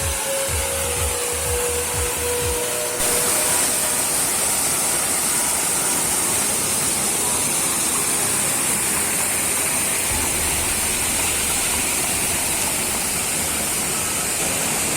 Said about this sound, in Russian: И этот водопад называется Козачьи слезы